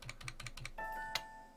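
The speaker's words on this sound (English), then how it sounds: "So I'm hitting Shift and down, so I'm selecting all this." A computer keyboard clicks as keys are struck, with a quick run of rhythmic taps followed by a single sharper keystroke, close and quiet with no talking.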